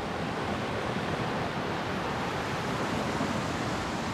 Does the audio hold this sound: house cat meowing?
no